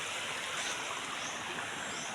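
Broadband rushing water of a diked river used for net fishing, steady and fairly loud throughout with a hissy, washing texture and no voices.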